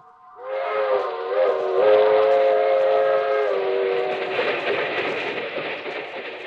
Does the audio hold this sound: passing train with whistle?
yes